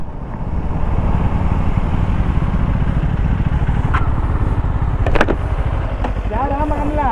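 TVS Apache RR310, KTM Duke 390 and Kawasaki Ninja 300 motorcycles racing, heard as a loud, sustained engine and wind roar with a few brief sharp accents near the end.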